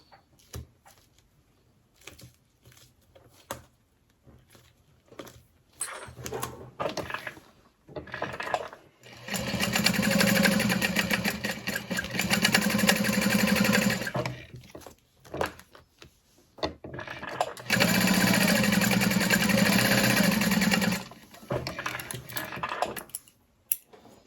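A sewing machine top stitches the folded edges of a Joey U-N-I Sex tote bag in two long, steady runs of fast, even stitching, with light clicks and handling sounds between them.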